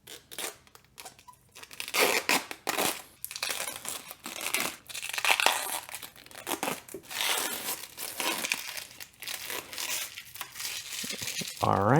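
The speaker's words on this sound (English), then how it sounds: "we got some on the fans, so let's peel that off as well" Protective plastic film is peeled off PC case fans during a Ryzen 7 5800X and Radeon 6800 XT build, giving close, repeated crinkling and tearing rustles in uneven bursts, with a brief squeak at the end.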